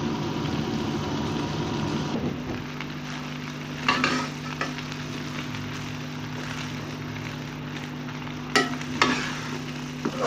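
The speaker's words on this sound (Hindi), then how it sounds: "चावल डालने के बाद अच्छे से हम इसे मिक्स कर देंगे" Egg fried rice is stirred and tossed in a hot pan, giving a steady sizzle with scraping spatula strokes and occasional sharper clinks, alongside a low steady hum.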